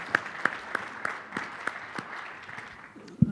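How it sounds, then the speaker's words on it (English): A small conference audience at a health policy keynote claps in a sparse round of applause, with distinct separate hand claps spaced out at moderate distance, then a soft thump near the end. "let's give her a round of applause."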